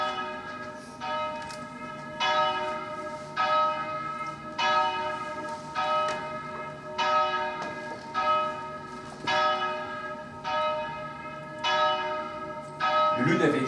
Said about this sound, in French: n'avait jamais entendu les cloches sonner comme ça